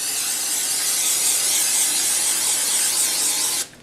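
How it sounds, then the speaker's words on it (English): Cooking spray hisses in one long, steady, loud burst while muffin tins are oiled, cutting off abruptly just before the end. "I'm going to go ahead and oil my tins."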